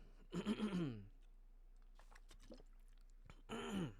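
A raspy throat clearing, a brief low grunt, then quiet with faint clicks before a second rough throat clearing.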